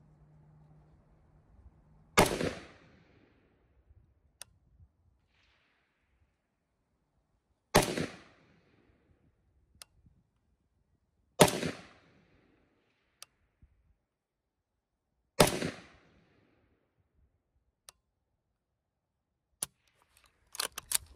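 Four sharp, loud gunshots from a SIG Spear LT short-barreled rifle, fired one at a time several seconds apart, each with a brief echo tail and faint clicks between shots.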